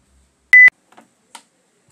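A telephone in the GTA Vice City video game gives a single loud electronic ring-tone burst, followed by a couple of faint soft clicks and a brief rustle.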